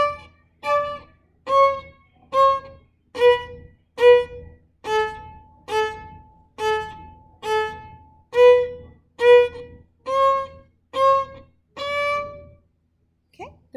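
Violin playing a steady run of short, detached staccato notes, about fourteen evenly spaced bowed strokes, close and clear with no talk.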